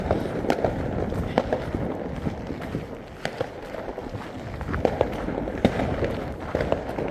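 New Year fireworks bursting outdoors, a series of sharp pops and crackles scattered irregularly over a steady hum of distant crowd noise.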